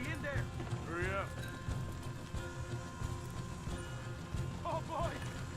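Horses in the video game Red Dead Redemption 2 clip-clop steadily at a close, even pace. Two short whinnies come near the start and another pair near the end, over a busy game background.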